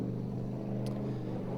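A supercharged formula offroad car at an Icelandic Formula Offroad round in Akureyri labours with little power, its engine giving a steady, low droning hum that never climbs into real revs, heard alone at a distance.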